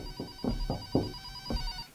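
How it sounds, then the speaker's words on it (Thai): A telephone rings late at night in a home kitchen, a steady electronic tone with repeated pulsing bursts sounding close and clear, alone without speech. "ผมได้ยินเสียงโทรศัพท์"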